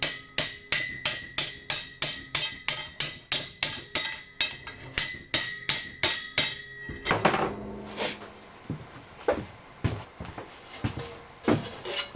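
A hammer pounds metal stove pipe on an anvil while building a large wood stove, with a fast, even run of about twenty ringing blows, then slower, scattered strikes, close and loud.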